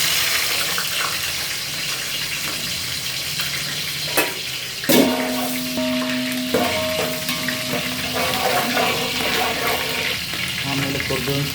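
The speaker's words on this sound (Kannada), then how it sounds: "ಫಸ್ಟಿಗೆ ಮೆಣಸಿನ್ಕಾಯಿ ಹಾಕ್ತೀನಿ ನೋಡಿ" Green chillies drop into hot oil in a pan, a busy crackling sizzle that runs throughout, with a few sharp clinks and a brief tonal ring partway through.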